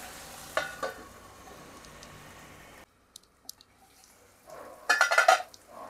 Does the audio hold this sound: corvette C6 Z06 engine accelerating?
no